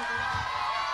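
An audience at a film poster release event claps and cheers as an actress is welcomed on stage, a dense continuous wash of applause with crowd noise, fairly loud and steady.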